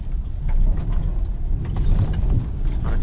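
A car passes on a narrow dirt road, a steady close rumble of engine and tires crunching on gravel that holds at a fairly even level throughout, with no voices.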